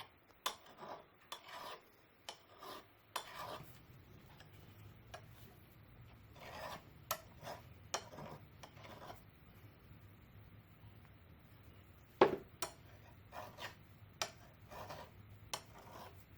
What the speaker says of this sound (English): I need to deburr this hole enough that I am not causing a new score mark on the inside of that